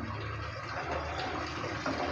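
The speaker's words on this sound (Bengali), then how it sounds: "এবার দিয়ে দিচ্ছি এখানে জল, হালকা গরম জল।" About half a cup of warm water is poured into cooked spice masala for a Bengali eggplant curry, giving a close, steady splashing gush with no talk.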